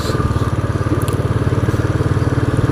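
A Royal Enfield 535 Continental GT motorcycle rides along a narrow, twisty road, its single-cylinder engine thumping in a steady, loud, rapid pulse close up, with no talking.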